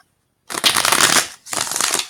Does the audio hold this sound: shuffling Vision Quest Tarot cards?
yes